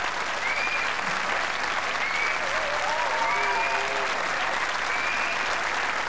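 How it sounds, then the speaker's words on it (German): A studio audience at a German television show claps in dense, sustained applause throughout, loud and even, with bright whistles and cheers rising over the clapping. "Applaus, ja!"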